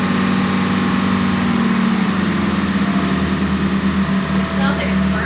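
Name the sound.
Detroit 453 two-stroke marine diesel engine running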